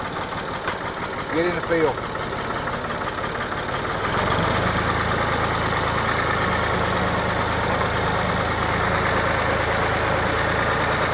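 A tractor engine runs steadily in fourth gear, low range, while spraying beans in a field. A brief spoken phrase comes early, then the engine grows louder and holds a constant rumble to the end.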